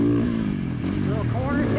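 Dirt motorcycle on an off-road trail revving hard as the rider shifts up through second and third gear, a loud close engine drone with rising pitch sweeps; the rider talks over it.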